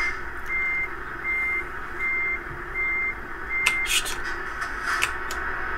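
Reversing beeps from a truck in the Euro Truck Simulator game, a steady run of evenly spaced electronic tones lasting the whole stretch, loud and close, with a few faint clicks near the end.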